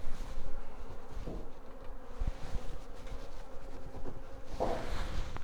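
Honey bees from a newly caught swarm buzzing around a disturbed hive in a homestead apiary, a continuous close droning hum with individual bees swelling louder as they pass near, no voices.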